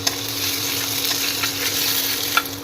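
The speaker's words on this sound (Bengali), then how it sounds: "এবার এই মশলায় লঙ্কা গুঁড়ি হলুদ দিয়ে দিচ্ছি, একটু নাড়িয়ে নিচ্ছি" Turmeric and chilli powder stirred into a sizzling spice base in a pan while cooking kochur loti (taro stolons), a steady crackling fry with soft scraping of the spoon and no talking.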